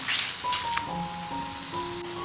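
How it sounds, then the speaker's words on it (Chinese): Flatbread frying in an oiled pan in a home kitchen, a steady loud sizzle and crackle throughout with a brief burst as it settles. "下面我开始烙饼了，定型之后给它翻个面。"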